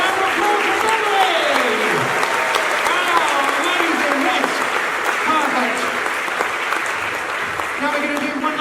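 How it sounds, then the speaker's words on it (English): An audience at a creative festival stage show applauds steadily and loudly throughout, a dense wash of clapping with crowd voices and cheering mixed in. "Round of applause for Beverly."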